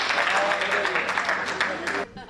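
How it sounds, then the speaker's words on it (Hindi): Audience at a comedy poetry show clapping, a short, loud burst of dense applause lasting about two seconds, with a voice talking over it before it drops away. "इसलिए अगर आपकी बढ़िया तालियां होंगी तो देश के बड़े कवि हेमंत पांडे जी मंच पर आएंगे।"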